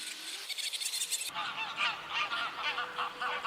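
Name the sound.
ducks on the pond in the park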